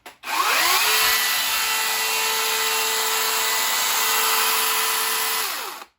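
A FERREX 40V battery chainsaw cuts through an oak log about 17-18 cm thick, its electric whine spinning up quickly, holding a steady loud drone close by for several seconds, then winding down.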